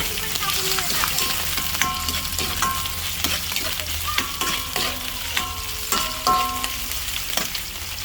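Chicken sizzles and fries in a hot pan for chop suey with quail eggs, a loud steady crackle broken by repeated clanks and scrapes of a utensil stirring it.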